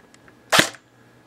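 A single sharp shot from an airsoft rat gun with an air-sealed cylinder head, original bucking and hop-up, a crisp close snap standing alone against a quiet background.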